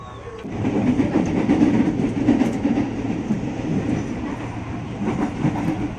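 KRL commuter train, a long twelve-car set, pulling into Tebet station with a loud steady rumble and rattle of wheels on rails, close by, with no voices.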